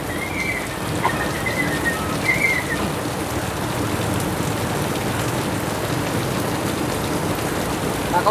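Heavy rain pours down on a flooding street, a dense, steady hiss of drops on surfaces that fills the scene, with a faint whistle briefly rising above it early on and no voices.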